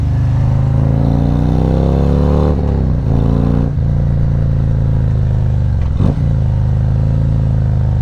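Riding a 2022 Ducati Streetfighter V4S: a loud, steady engine drone from onboard, rising and dropping with throttle and gear changes, wrapped in constant wind rush.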